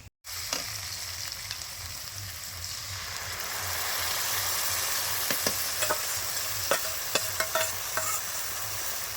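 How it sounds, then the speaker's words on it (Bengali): Ground spice paste of garam masala and tomato hits hot oil with fried onions in a kadai, giving a steady sizzle throughout, with intermittent stirring clicks and scrapes growing more frequent toward the end. "পেঁয়াজ ভাজা হয়ে গেছে আর বাটা মশলাটা কড়াইতে দিয়ে দেবো"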